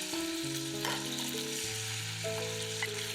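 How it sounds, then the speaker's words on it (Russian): Chicken fillet pieces sizzle in vegetable oil in a hot pan over high heat, a steady close frying hiss with shifting tonal hum layered beneath, no talking. "Обжариваем филе на большом огне до румяной корочки."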